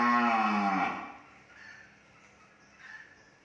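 A herd of cattle at a farm selling cream-colored BBB beef cattle gives one loud, close, drawn-out moo that fades after about a second, followed by fainter lowing in the background.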